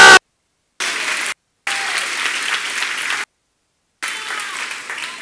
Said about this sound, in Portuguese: Diga amém, aplausos.